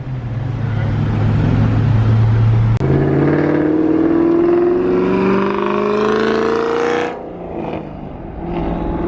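A Ford Shelby GT500 rolling on newly fitted wheels, its loud, close engine note climbing steadily in pitch as it accelerates, then easing off near the end.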